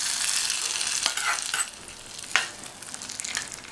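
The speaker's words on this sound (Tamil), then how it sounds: "இதை வதக்கி விட்டுட்டு தாளிப்பை கூட்டில் சேர்த்துடலாம்." Small chopped onions sauté in hot oil for a tempering, a bright close sizzle with a few scraping stirs and spattering pops, no voices.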